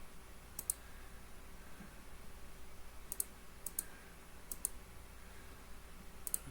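A computer mouse clicks while working in FreeCAD on a mold cavity, several faint, crisp clicks, some in quick pairs, spread over quiet room tone.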